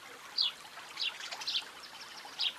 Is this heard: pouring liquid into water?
yes